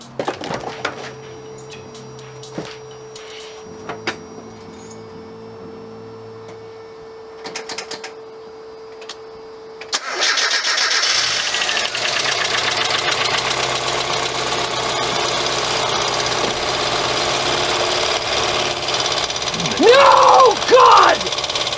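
A sports car engine cranks after a timing job, bursts into life about halfway through and settles into a loud, steady running roar, with faint clicks and shuffling before the start.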